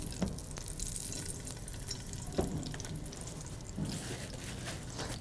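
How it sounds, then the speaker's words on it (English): Crushed red pepper flakes sizzle in hot oil in a pan, a steady soft crackling hiss with a few louder pops and stirring knocks, close and fairly quiet with no talking. "sizzle and infuse the oil, literally infuse the oil for just a minute"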